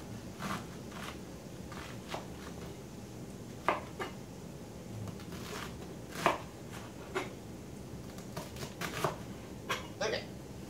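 A knife chops cabbage into narrow strips on a board in quick, uneven, sharp taps, close by, under a low kitchen background while someone talks.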